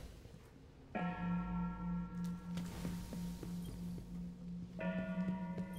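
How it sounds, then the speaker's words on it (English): A large bell in Destiny: Rise of Iron is struck twice, each strike a loud close clang with a long sustained ringing hum, against steady background game ambience and no talk. "You can ring the bell."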